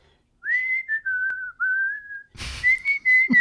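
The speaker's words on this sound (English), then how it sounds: "a quick whistle" A person gives a short, clear whistle, a few sliding high tones with brief gaps, close by, ending with a short burst of noise.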